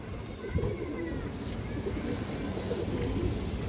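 An old-line pigeon coos low and soft in a continuous burbling murmur, close by, with faint background noise around it.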